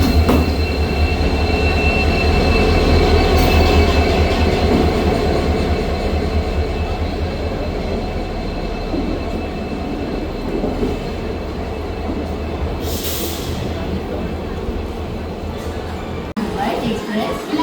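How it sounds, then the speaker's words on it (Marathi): An express train bound for Chhatrapati Shivaji Maharaj Terminus, Mumbai, pulls in at platform 5 with a loud, steady rumble of wheels and carriages, a brief screech of wheels near the end, and faint voices in the background. "सो फायनली आपली ट्रेन आलेली आहे."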